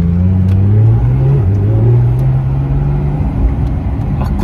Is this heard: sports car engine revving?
yes